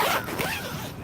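A tent's front-door zipper is pulled in one quick, rasping stroke lasting about a second, close and clear.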